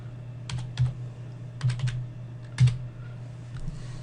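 Light, irregular clicks of typing on a computer keyboard while entering a word into an Excel spreadsheet cell, several short bursts of keystrokes over a low steady hum.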